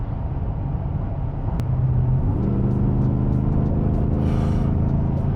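2024 Shelby F150 Super Snake pickup truck pulling forward as the throttle opens, a deep steady engine rumble that rises in pitch around midway, heard from inside the cab with constant road noise.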